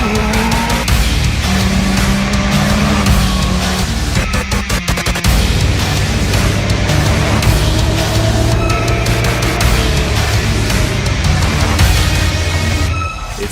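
A Honda CB1000R motorcycle roars loudly along a tarmac road, its engine note continuous and rising and falling as it accelerates, heard close with no speech.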